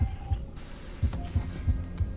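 A throbbing heartbeat from Honkai: Star Rail pulses in low, steady double thumps, about six beats, mimicking hammer strikes, heard faint over a soft hum without speech.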